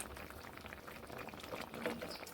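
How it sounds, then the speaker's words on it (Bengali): Winter vegetables simmering in a pot with a little water, giving a soft, steady bubbling hiss, faint and close, with no talk. "এবার আমি দু মিনিট ফুটতে দেব"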